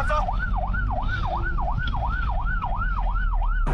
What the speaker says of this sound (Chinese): 我们一路开好警车，拉好警笛